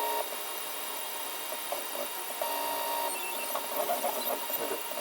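A 3D printer prints a lid and box body in one job, giving a faint, steady mechanical whir with soft whining stepper-motor tones shifting in pitch, continuous and fairly quiet, with no talk.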